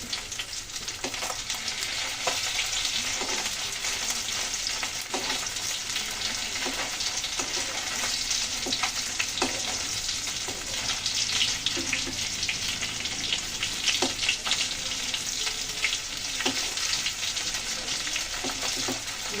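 Bele fish frying in hot oil, a loud dense continuous crackling sizzle with scattered pops, steady throughout, close and without voices.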